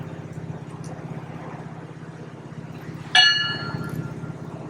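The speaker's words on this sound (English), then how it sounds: "please have the ringing of the bell in a moment of silence" A single memorial bell strikes once at a Pennsauken 9/11 Day of Remembrance ceremony outdoors, a bright ringing tone that rings out and decays slowly over steady low traffic and ambient hum.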